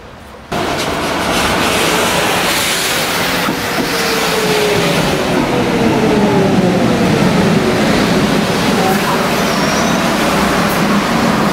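A BOGESTRA B80D Stadtbahn light rail car running in Bochum gives a loud, continuous rumble with faint wheel squeals and gliding tones rising and falling over the steady roar.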